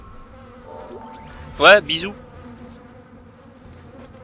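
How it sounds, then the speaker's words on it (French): Flies buzz faintly in the Dead Space video game, a low hum under a brief spoken voice and ambient game drone. "Apparemment ça pue vu qu'il y a des mouches."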